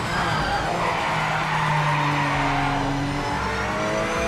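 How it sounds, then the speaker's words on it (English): Whining race car engine with a high, whistling tone from the Project Motor Racing video game, pitch sliding up and down through gear changes alongside a touch of tire noise, loud and continuous. "I'm not a fan of the engine sounds at all."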